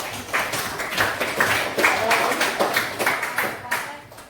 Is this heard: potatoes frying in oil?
no